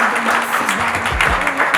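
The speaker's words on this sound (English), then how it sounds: "A big round of applause for us." Applause rings out at a company unity carnival, loud, close crowd clapping mixed with cheering voices over a brief stretch.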